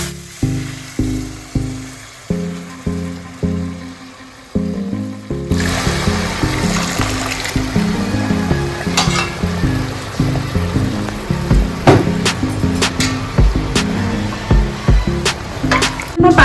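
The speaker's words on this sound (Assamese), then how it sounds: "এতিয়া ইয়াত গৰম পানী দি দিওঁ মই।" Hot water is poured into a hot cooking pan of rohu fish curry with cumin powder, setting off a loud, steady sizzle and bubbling after a few seconds of rhythmic stirring or scraping, then continuing close and strong.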